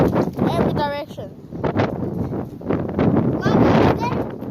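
Strong gusty wind buffets the microphone outdoors on a stormy day, a loud broadband roar that swells and surges throughout, with people shouting and talking over it.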